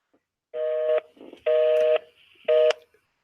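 Telephone keypad dialing tones sound as three separate steady beeps, each about half a second long with short gaps between, clear and close with no talking.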